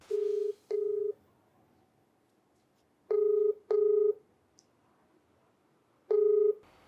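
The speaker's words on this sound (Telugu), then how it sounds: "ఒకసారి కాల్ చేసి మాట్లాడదామండి." Telephone keypad tones sound as a number is dialed: two short beeps, a pause, then two more and a final one, clear and close against a quiet background.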